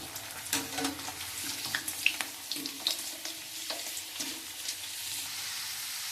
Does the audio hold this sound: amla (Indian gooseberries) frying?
yes